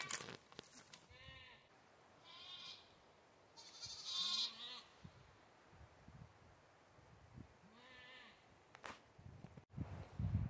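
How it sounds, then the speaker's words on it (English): Goats on a farm give several loud, wavering bleats and cries at irregular intervals, close by, over a quiet outdoor background with faint rustling. "These crying goats are crazy."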